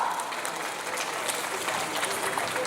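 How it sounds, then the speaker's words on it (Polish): A burst of crowd applause at an international accordion players' competition, dense and continuous, fairly close and loud from start to finish. "wielkie brawa"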